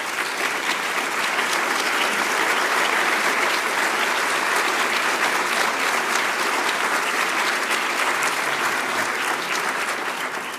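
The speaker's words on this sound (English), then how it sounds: "we'd like to see you and we'd like to give you a round of applause" A large awards-ceremony audience gives nominees a sustained round of applause, dense steady clapping that fills the whole stretch at a loud, even level with no talk over it.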